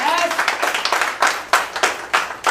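An audience applauds a company owner with a burst of uneven clapping that thins into a few loud, separate claps, heard close and clear.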